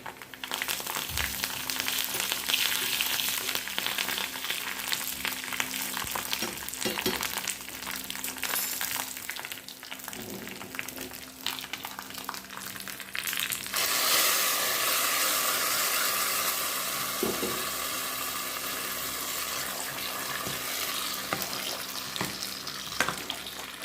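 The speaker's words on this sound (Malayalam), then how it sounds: "ഇതിലേക്ക് കടു താളിക്കാൻ അല്ലെങ്കിൽ കടു വറക്കാനായിട്ട് വെച്ചിട്ടുണ്ട് അതുകൂടെ ഇട്ട് കൊടുക്കാം" Mustard seeds fry in hot oil for tempering a Kerala-style jackfruit dish, a steady close sizzle and crackle that grows brighter and louder about midway, with occasional faint knocks and no talking.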